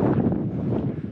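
Steady, loud wind buffets the microphone with low rumbling gusts on a Lofoten hiking crossing, close and continuous for a brief moment.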